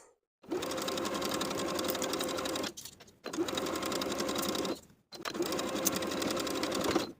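A sewing machine edge stitches pant leg hems on a woven romper, three steady runs of rapid needle chatter separated by brief pauses, close and without talk.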